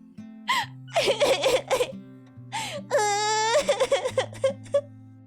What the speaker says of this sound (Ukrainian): Так гучно плаче.